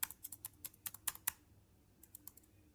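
Rapid keystrokes on a computer keyboard, a quick burst of about ten clicks, a pause, then a few more taps ending on a firmer enter-like press, close and quiet with no talk.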